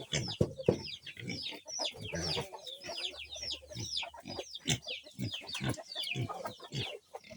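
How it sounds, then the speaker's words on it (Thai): Chickens cluck and squawk busily close by, many overlapping calls in a steady stream with no talking. "จับเป็ดจับไก่"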